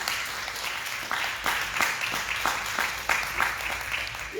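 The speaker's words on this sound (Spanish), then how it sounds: "Denle un aplauso al Señor." A church congregation at a Spanish-language Bible study applauds, a sustained wash of many hands clapping at a steady rhythm throughout.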